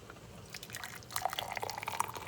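Homemade tea with cinnamon and onion is drained and poured through a strainer, giving a soft trickle with quick drips and splashes close by, growing busier partway through.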